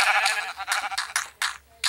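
Sheep in a farming video game bleat in a quick series of short, wavering calls, several bursts in under two seconds, close and clear with no talking.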